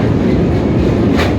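The 13187 Maa Tara Express rumbles loudly and steadily across the Hooghly bridge, with a constant low roar of wheels and carriages heard from on board.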